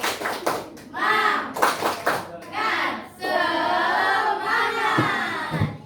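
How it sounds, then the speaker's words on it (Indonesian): Schoolchildren in a classroom perform a rhythmic 'tepuk semangat' spirit clap, bursts of patterned claps mixed with children chanting and a teacher's voice calling along. "kita tepuk semangat dulu ya"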